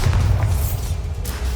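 Heavy low rumbling blast from the Bombarda spell during a wizard duel in Hogwarts Legacy, a loud sustained boom with deep thudding weight that rolls on for over a second without fading much.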